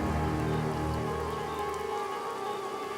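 Rain falling on a rainy night along a deserted road, a steady, soft patter of drops on surfaces throughout, quiet and continuous with a faint hum underneath.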